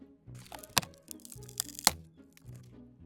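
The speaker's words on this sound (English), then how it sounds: "A tiny paw stepped on a very loud twig." Several sharp crunches and cracks in quick succession, a twig snapping underfoot, close and fairly faint, with no talking.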